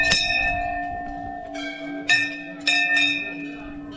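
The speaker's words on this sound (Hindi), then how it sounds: "देखो सबने यहाँ पे घंटियाँ चढ़ा रखी हैं, सब अपनी मन्नत मांगते हैं" Temple bells ring at the Danda Nagraja temple in the hills of Uttarakhand, with a long ringing tone followed by several clear metallic strikes that sound close and loud and overlap as each one fades.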